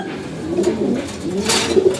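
Several pigeons coo in soft, rolling throaty calls close by, a brief continuous murmur with no voices.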